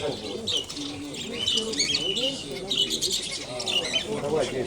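Small budgerigars chirp and twitter steadily in a busy market, their high busy calls layered with cooing birds and murmuring crowd voices close by.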